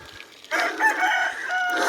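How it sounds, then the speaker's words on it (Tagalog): Roosters crow at a chicken farm passed along a campsite bike route, a loud drawn-out crow rising close by and trailing off, with no talk over it. "Manukan na yata to."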